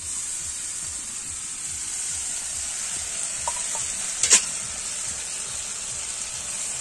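Ground spices with cashew paste fry and get stirred in a pan, a steady bright sizzle with a faint spoon scrape or two partway through.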